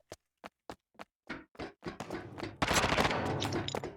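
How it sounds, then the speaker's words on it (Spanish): Gunfire in the video game Lost Light begins as single spaced shots and speeds up into a loud, dense burst of rapid automatic fire, with no talking. "¡Están pegando tiros!"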